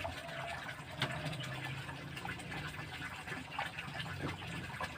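Liquid EM4 solution is poured into a closed container, a steady close splashing trickle with a few bubbling gurgles throughout.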